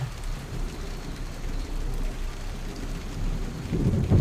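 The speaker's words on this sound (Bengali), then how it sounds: "শীতের রাতে বসে বৃষ্টির ভিডিও বানাচ্ছি" Rain and thunder on a winter night: a steady, dense hiss of rain falling on surfaces under a continuous low rumble of thunder that swells louder near the end.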